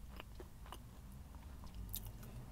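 Jack in the Box seasoned fries are bitten and chewed up close, giving soft, repeated crunchy munches with a few sharper crisp bites over a quiet background and no speech.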